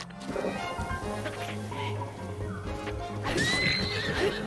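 Horse neighing and whinnying in a Zelda: Breath of the Wild game, with clip-clop hooves and whacks as the animal is struck, fairly loud and close, running steadily through the whole stretch.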